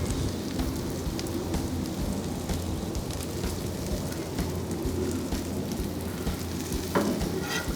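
Cremini mushrooms tossed in with onions on a hot griddle in an outdoor cooking setup, hissing and crackling as a constant dense sizzle, with a light clank near the end.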